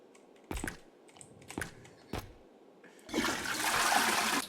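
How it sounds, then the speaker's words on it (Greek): A toilet flush in the video game R.E.P.O.: a few sharp clicks and taps, then a rushing gush of water that swells and keeps pouring, heard up close. "Πάτε λίγο καζανάκι μου."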